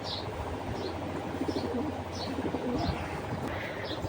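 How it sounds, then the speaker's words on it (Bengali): A Jhuma pigeon coos softly in a low, rolling murmur that repeats steadily, with faint chirps from other birds above it and no talking. "তো চলুন আগে ঝুমা কবুতরটা দেখাই আমি"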